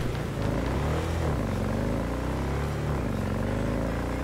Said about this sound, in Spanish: la moto de Jack es complicada de hacerla, de maniobrarla